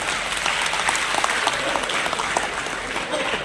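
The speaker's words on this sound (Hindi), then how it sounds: "एक बार आप मेरे लिए ताली बजा दीजिए" An audience at a National Voters' Day awareness event at an Ayurvedic college in Udaipur claps for a speaker, a loud, dense, sustained applause filling the hall, with murmured voices underneath.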